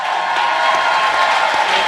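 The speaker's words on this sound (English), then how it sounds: "Please give the Vice President of the United States of America another round of applause." A crowd applauds and cheers for the Vice President of the United States at a southern event, giving steady, loud, continuous clapping with a few whoops throughout.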